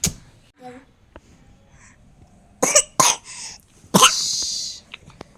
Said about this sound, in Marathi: खोकला झालेला आहे